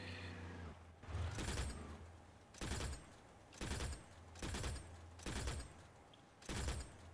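Gunfire from vehicle weapons in the armored-vehicle combat game Crossout, six heavy shot bursts at roughly even intervals over a steady low engine hum, with no talking.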